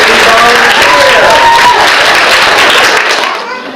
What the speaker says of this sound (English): how about a big round of applause for a very trusty volunteer?